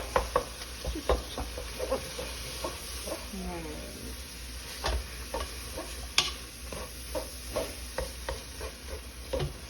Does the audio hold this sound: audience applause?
no